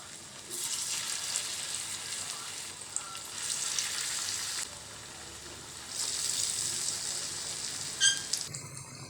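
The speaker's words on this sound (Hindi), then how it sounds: "टिकिया बना के इसे डीप फ्राई कर लें।" Potato kebab patties deep frying in oil give a soft, steady sizzle that swells and eases in waves, with a brief clatter near the end and no talking.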